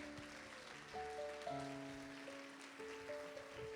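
A church congregation claps to glorify the Lord during a service, a soft, faint patter of hands beneath sustained keyboard chords.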